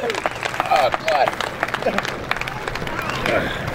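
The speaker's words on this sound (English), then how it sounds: "Big round of applause." Crowd applause for a speedway race winner at an outlaw feature, scattered clapping and cheering mixed with babble and a voice over a loudspeaker, bursts of louder cheers early on.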